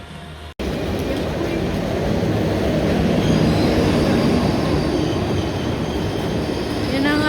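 Night train rolling through a station, a loud continuous rumble of wheels on rails with rising squeals near the end, heard up close after a brief cut at the start.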